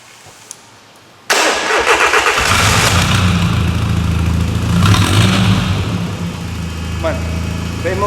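A car engine cranks and catches abruptly, then settles into a steady, close idle in a workshop during an oscilloscope fault diagnosis, with brief talk over the running engine.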